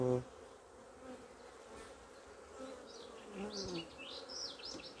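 Honeybees buzz steadily around open hives during an inspection one week after a colony split, a close, continuous drone with brief rising whines from individual bees passing near.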